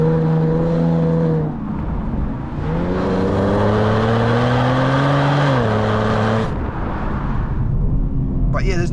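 A 2024 Genesis G70 V6 sedan accelerating hard under full power, its engine note climbing loudly through the gears with brief dips at each shift, heard from inside the cabin over a steady road roar.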